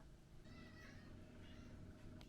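A cat meowing indoors in a kitchen, a couple of soft drawn-out meows at moderate distance over low household background noise.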